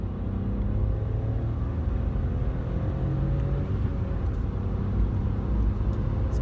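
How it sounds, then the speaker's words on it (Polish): A Skoda Fabia with a 1.0 TSI engine pulls away, a steady low engine rumble and road noise heard from inside the car, continuous and fairly loud, no talking. "Zbiera się ten samochodzik."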